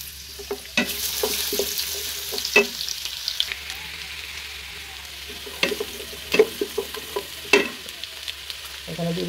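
Onions sizzle in hot oil in a pan while being cooked for pilaf, a steady frying hiss broken by sharp bursts as they are stirred, close and fairly loud, with no talking.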